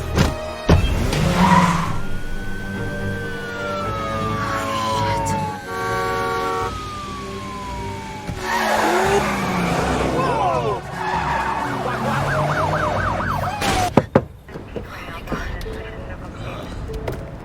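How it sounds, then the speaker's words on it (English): Police sirens wailing during a car chase in the film Knives Out, with revving engines, tire skids and wailing sirens rising and falling over a driving music score, ending in a sudden stop. "That was the dumbest car chase of all time."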